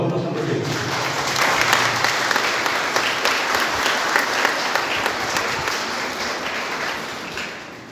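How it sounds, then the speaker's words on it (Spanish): Sustained audience applause for fellow residents of San Roque, dense and steady for several seconds at fairly close range, tapering slightly at the end with no speech over it. "un aplauso para otros sanroqueños"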